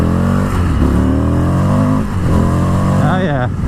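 A 2020 Indian FTR 1200 motorcycle pulls hard under acceleration, its engine note climbing loud and near through rising revs, then climbing again after a gear change, with wind noise and a rider talking throughout.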